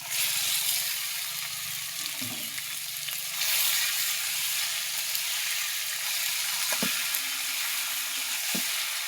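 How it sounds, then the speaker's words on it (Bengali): Meat sizzles and fries steadily in a spiced masala in a pan, with a constant hiss, occasional stirring knocks and clinks, and no talking. "এবার আমি এর ভিতরে মাংস দিয়ে দেব।"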